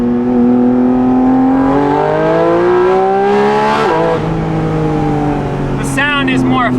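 A Porsche Cayman GT4 RS with titanium over-axle exhaust pipes opened up roars loudly and close, revs rising and shifting in sustained high-pitched sweeps, with a brief sharp engine flare near the end.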